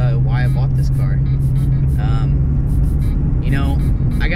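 An Acura Integra GSR sedan drives along the road with a steady low engine hum and road rumble throughout, while a person talks continuously over it close by.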